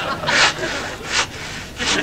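A hand saw cuts with rough, rasping strokes in a steady back-and-forth rhythm, three loud pulls about a second apart, close by in a comedy sketch.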